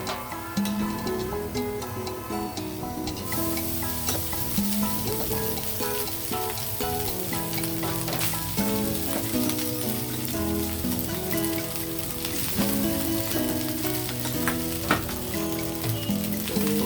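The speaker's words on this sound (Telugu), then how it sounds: "వేగిపోయాయి, ఇప్పుడు రైస్ యాడ్ చేస్తున్నాను." Cumin and rice sizzle in hot oil for jeera rice, a dense continuous crackle close by with stirring scrapes, playing under background music with no talk.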